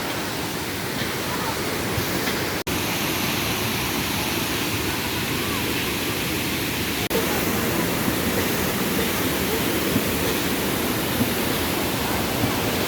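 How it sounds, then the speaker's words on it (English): A steady, loud rush of a waterfall in an Indonesian forest, heard from its base, fills the whole stretch, broad and unbroken, with a single sharp click partway through. "That's the waterfall. So close. The small waterfalls over here too."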